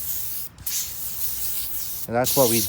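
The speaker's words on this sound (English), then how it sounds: "let's put some AMSOIL silicone spray on everything" AMSOIL silicone spray hissing out in a steady, close burst of about a second and a half over the chassis and metal parts of a Rovan Baja Max T RC car, then someone speaks briefly.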